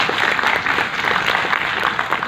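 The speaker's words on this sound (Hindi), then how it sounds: "यस, इसके लिए थोड़ा तालियां बजा के।" An audience at a business talk claps together briefly, a thick, even patter of many hands sustained for a couple of seconds, fairly close and loud with no voices over it.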